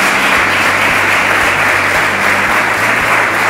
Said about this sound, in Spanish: Vamos a darle un fuerte aplauso porque se lo merecen.